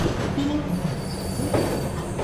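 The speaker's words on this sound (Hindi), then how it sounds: "चलिए निकल गई अपनी ट्रेन जो है देश की राजधानी नई दिल्ली से।" Mahabodhi Express train rolling out of New Delhi station, a steady low rumble of wheels and carriages with faint squeals, heard close and continuous throughout.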